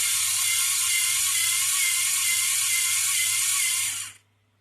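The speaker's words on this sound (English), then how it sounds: "So on the motor side, this is what a filament change would look like." A Lego Mindstorms motor unit selecting filament on an Ender 3 3D printer whirs continuously in a loud, steady mechanical ratcheting buzz, then cuts off abruptly near the end, leaving silence.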